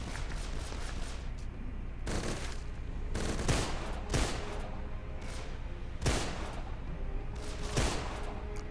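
Bursts of rapid automatic gunfire in the video game Deadfall Adventures rattle repeatedly over a dense, noisy background, with sharp louder volleys recurring every second or two.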